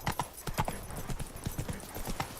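Horse hooves clip-clop at a steady trot through The Witcher 3, sharp close hoofbeats repeating in an even rhythm with no talk over them.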